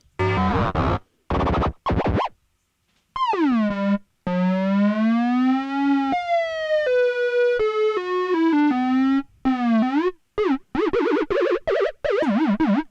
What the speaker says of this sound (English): Let's lower the pitch of the sine oscillator.